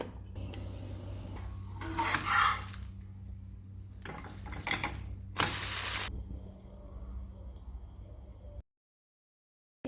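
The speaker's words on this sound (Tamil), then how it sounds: "இப்போ முட்டை சேர்த்து கலந்தாச்சு" A utensil stirs dosa batter mixed with egg in a bowl, scraping and sloshing in uneven bursts with one sharp loud scrape, then silence at the end.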